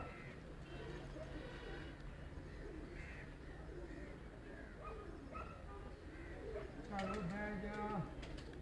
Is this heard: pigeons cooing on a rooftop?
yes